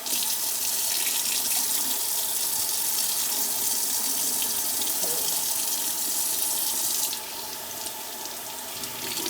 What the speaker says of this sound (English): I'm gonna just get water in here and make sure all the vinegar is off of it.